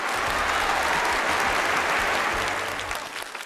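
A theatre audience at a Spring Festival Gala comedy sketch claps in sustained, dense applause that fades slightly toward the end.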